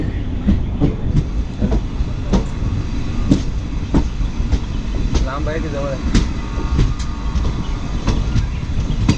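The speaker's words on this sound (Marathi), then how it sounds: "चला आपण या गाडीतून आलो. Ahmedabad Mangaluru special train." An Ahmedabad–Mangaluru special passenger train rolls through a station, its wheels clacking in a steady rhythm over the rail joints with a constant rumble underneath, while someone asks a brief question over the noise.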